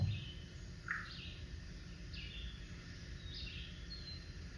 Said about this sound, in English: I recorded this chickadee song down in